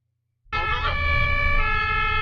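Ambulance siren starting abruptly after a short silence, then a loud, close, sustained wailing tone with rich harmonics that holds steady to the end.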